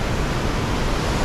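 Constance Creek rushes down a mountainside, a dense, steady roar of water that stays even and loud throughout.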